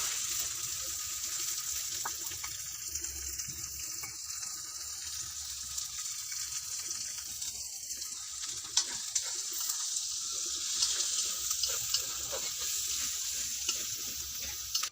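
Finely chopped onions fry in hot oil for a village-style country chicken curry with a continuous bright sizzle, close and steady, while a utensil stirs and scrapes now and then.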